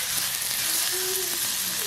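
Small onions frying in a pan for sambal, a constant close hiss and sizzle of hot oil filling the short moment.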